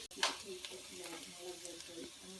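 Potatoes with herbs pan frying slowly, giving a faint, steady sizzle that runs low and even throughout.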